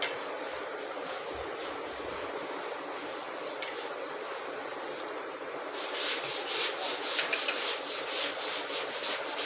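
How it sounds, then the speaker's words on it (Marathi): Tomato and onion uttapam batter being spread across a hot pan, a steady soft scraping and rubbing that grows a little louder and more textured toward the end, with no talking. "व्यवस्थित असा पसरून घ्यायचा जास्त जाड पण नाही ठेवायचं"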